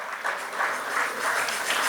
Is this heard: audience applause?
yes